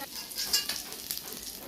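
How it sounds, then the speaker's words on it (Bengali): Fried pabda fish is lifted out of hot oil in a pan, with a continuous close hiss of sizzling and a few soft scraping stirs, and no talking. "ভাজা হয়ে গেছে, আমি তুলে নিচ্ছি।"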